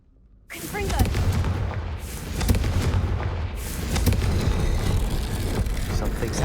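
A Confringo fire spell blasts in the Hogwarts Legacy video game, a sudden loud boom followed by sustained rumbling, crackling explosive noise that persists with a second surge midway.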